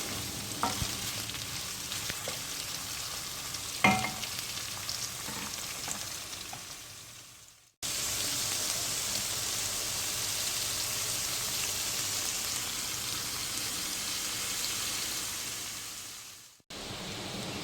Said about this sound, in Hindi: इस तरह से कटिंग करने के बाद इसको हमने लाइट ब्राउन करना है